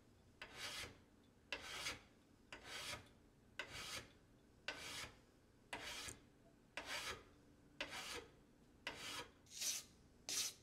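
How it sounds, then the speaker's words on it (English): A file draw-filing metal stock with about eleven evenly spaced rasping strokes, close and fairly quiet, with short pauses between strokes and no voices. "Draw filing generally leaves a finer finish than regular filing, but isn't as quick to remove material."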